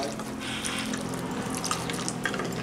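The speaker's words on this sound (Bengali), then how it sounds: "তার জন্য এর মধ্যে আমি জল দিয়ে দিলাম" Water pours steadily into a bowl of soybeans, a continuous splashing, bubbling stream heard up close with no one talking.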